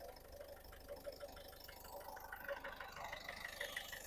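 A 2011 Ford Figo diesel engine idles nearby, a low, faint, even rhythmic clatter running steadily throughout.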